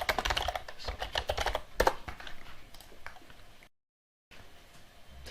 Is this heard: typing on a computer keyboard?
yes